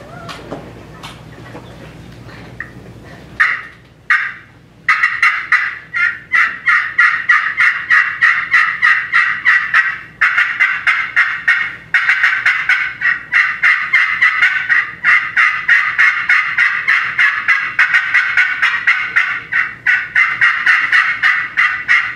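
A friction turkey call at a state calling contest imitates an excited hen yelp: after a brief scratchy start, a long run of rapid, loud, raspy yelps in quick rhythmic bursts continues close and uninterrupted.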